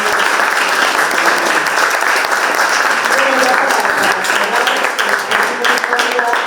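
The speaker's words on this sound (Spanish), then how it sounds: "pues un aplauso, por favor." Applause from an audience at an academic presentation, a dense and steady round of clapping filling the whole stretch, loud and close.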